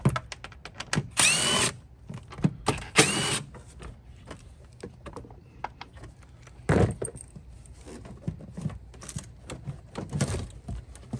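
Captive screws backed out with a power driver on a 2007-or-later Chevy Suburban, short whirring bursts at about 1.5, 3 and 7 seconds, close and fairly loud, with clicks and handling noise of the tool and parts between them.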